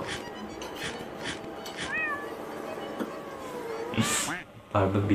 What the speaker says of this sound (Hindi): पर बिल्ली कहाँ से?